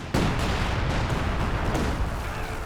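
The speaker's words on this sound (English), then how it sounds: "oh, it's a light artillery strike" Light artillery strike in Company of Heroes 2, several shells firing down a row: a sharp opening blast followed by a dense, continuous rumble of overlapping booms and crackling impacts, loud and sustained.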